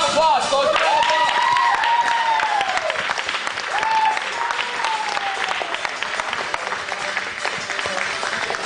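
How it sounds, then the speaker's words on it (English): An audience applauds steadily and loudly at a jujitsu black belt test, the dense clapping running for the whole stretch with a few voices calling out over it. "Let's do a round of applause, folks. A round of applause."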